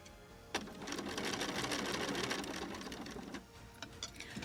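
A sewing machine runs in a steady, rapid burst of stitching through curved quilt pieces, starting abruptly and stopping after about three seconds, followed by a few faint clicks; close and fairly quiet.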